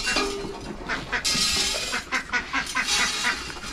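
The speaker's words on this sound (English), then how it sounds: "I'm coming, ducks." Ducks quack in a quick run of loud, close, repeated calls, a small flock clamoring together with no talk over them.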